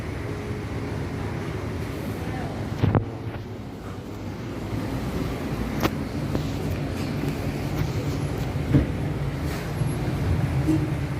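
Steady engine and road rumble inside a car driving through South Africa during the COVID-19 lockdown period, with a brief louder bump and rustle near the start, no talk.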